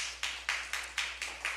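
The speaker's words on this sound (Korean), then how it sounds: "자, 하나님께 영광의 박수 돌리겠습니다." A church congregation claps in steady unison during a Wednesday worship service, about six even claps roughly a quarter second apart, fairly soft and with no voices over them.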